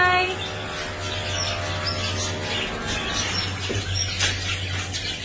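Many lovebirds chirp and tweet in bright overlapping bursts nearby, over a steady low electrical hum.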